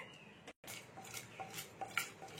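A utensil stirs spice masala in a wok for a breakfast dish, giving quiet scraping and light metallic clinks spread over a few seconds with one brief silent gap, soft and close, with no one talking.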